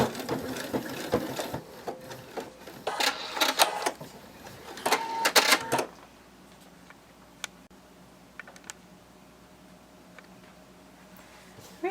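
A sewing machine stitches seams on a bunny plush in short uneven bursts of rapid ticking and clatter for several seconds, then falls quiet, leaving only faint scattered clicks.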